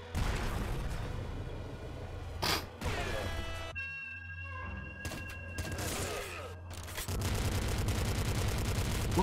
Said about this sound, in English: Let's take the heavy machine gun here.